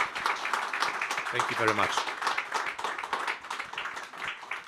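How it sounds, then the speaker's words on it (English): Audience applause for panelists at a conference debate, a steady patter of clapping throughout with someone briefly speaking over it. "let me ask you to give a big round of applause to our great panelists"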